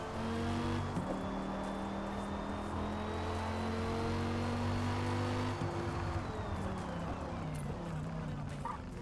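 A race car on a flying lap at Kyalami in Forza Motorsport, its engine loud and continuous as it climbs through the revs, shifts once and holds at high pitch, then drops off near the end.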